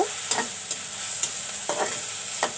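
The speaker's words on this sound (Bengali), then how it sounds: "একটু মুসুর ডাল ভেজে নেব" Red lentils (masoor dal) frying in a pan, with a steady hiss broken by four or five sharp spatula scrapes at uneven intervals.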